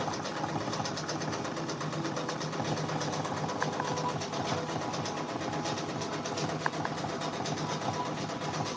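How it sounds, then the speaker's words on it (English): A Brother Persona embroidery machine stitches a patch with a fast, steady mechanical rattle and hum, running nonstop at close range. "We're using the Brother Persona."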